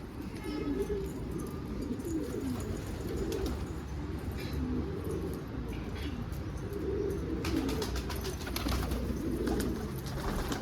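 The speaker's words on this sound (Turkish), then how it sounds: "Bir bölük geldi var ya. Of 15 tane posta." A flock of racing pigeons arriving in a garden loft, steady close cooing and wing flutters, with someone talking at times over them.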